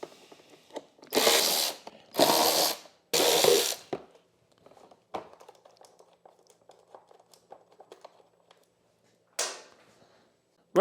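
Bolts on the leg shield of a Sym Symba scooter being loosened with a ratchet, three loud bursts of clicking close together, then scattered small clinks and handling noises and one last ratchet burst near the end.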